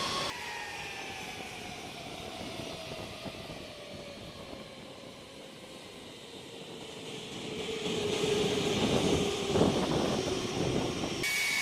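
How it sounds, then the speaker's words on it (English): Engines of a Boeing B-52 Stratofortress long-range heavy bomber, heard as a moderately quiet, steady jet roar with a slowly falling whine. The sound swells louder toward the end, with no voices. "B-52, U.S. long-range heavy bomber, designed by the Boeing Company in 1948"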